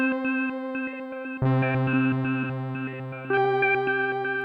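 Polyend MESS multi-effects pedal sequencing vowel-like filter changes on a sustained synthetic tone, stepping rhythmically between shifting timbres, thickening into a denser layered sound partway through and brightening again near the end.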